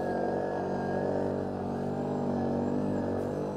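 A quad bike engine revs steadily around 6,000 RPM on a snowy trail ride during a solar eclipse, a continuous loud droning hum with no pauses, close to the rider.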